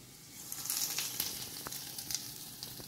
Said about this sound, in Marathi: आतां जें तडका आहा पळय तें हितून घालपाचें